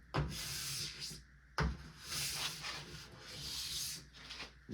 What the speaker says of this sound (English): Just nice even pressure along the ski. Get all the wax off.